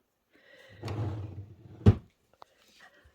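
A vintage drawer in a home craft room slides open with a soft rolling rumble, then lands with a single sharp knock. A faint tap follows, with no talk.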